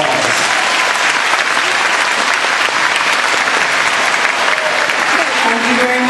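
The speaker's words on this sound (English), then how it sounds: "give them all a very big and thank you round of applause" Audience applause for the helpers on stage at an awards event, a steady, dense clapping from a crowd that fills the whole stretch at full loudness without a break.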